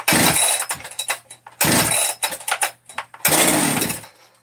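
A Stihl-style 394 chainsaw is pull-started in three loud bursts, each rope pull followed by brief sputtering, with a quieter cranking stretch in between, close by and without talk.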